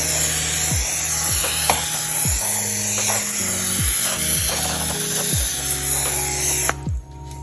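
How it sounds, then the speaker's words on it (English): A steady, hissing spray of oil from a pump sprayer onto chicken wings runs for several seconds and then cuts off, with a faint rhythmic mechanical scraping underneath. "Now I'm going to spray oil on that"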